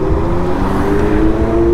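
Nearby car with a steady engine drone and road rumble, heard while riding alongside it on an Arvala M11 electric scooter, loud and continuous with no talk.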